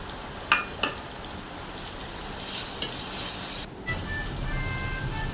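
Onions, shallots and ginger garlic paste frying in a pan for a mutton roast: a steady, loud sizzle and hiss throughout, with a few stirring clatters and a brief break in the sizzle, no talking.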